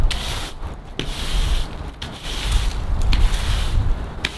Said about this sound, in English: I'm gonna see how good it cleans it with just a nice good old sweep